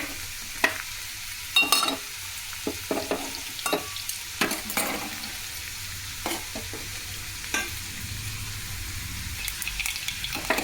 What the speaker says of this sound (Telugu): అలాగే చారుకి పోపు వేస్తున్నాను